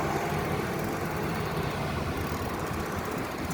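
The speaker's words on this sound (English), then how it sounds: "So now we're gonna fight traffic here." Steady road traffic around a beach bicycle ride on Sanibel Island, Florida, with a continuous broadband rumble of car engines and passing vehicles that stays loud throughout, with no talking.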